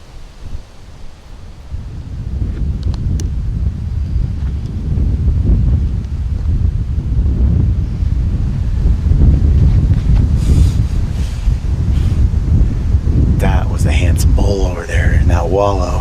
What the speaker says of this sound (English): the wind's getting bad